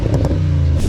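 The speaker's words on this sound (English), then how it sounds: "Jaguars have always had a reputation for their exhaust and have produced some of the most great sounding cars." Loud, close burst of V8 exhaust from a Jaguar XF V8S with its 5.0-litre engine, a deep throaty roar lasting about a second.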